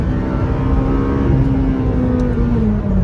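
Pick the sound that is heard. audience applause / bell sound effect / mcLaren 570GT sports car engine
mcLaren 570GT sports car engine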